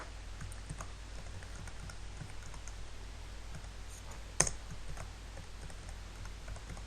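Text being typed on a computer keyboard, a quiet, steady patter of soft key clicks with one sharper, louder keystroke partway through, no speech.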